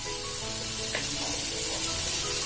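Baby corn fries in a pan with turmeric and spice powders, a steady close sizzle with light stirring and a brief spatter, no voices.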